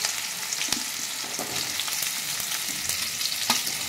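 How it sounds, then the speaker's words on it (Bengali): Okra fries in hot mustard oil in a wok, giving a steady, close sizzle with scattered sharp pops and crackles throughout and no talking. "এবার আমি ভেন্ডিগুলো তেলের মধ্যে দিয়ে দিচ্ছি।"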